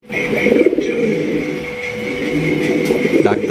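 Gola pigeons coo steadily and close by, a continuous low rolling call under the noise of a pigeon market, with no talk.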